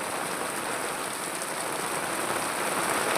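Heavy rain pours down in Dahod district, a dense, steady hiss of water on surfaces that holds at an even level from start to end.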